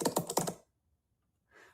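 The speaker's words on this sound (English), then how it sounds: "You can hear it. Yes, can hear typing." Typing on a computer keyboard: a quick burst of about half a dozen crisp key clicks, a pause of silence, then a few more keystrokes starting up.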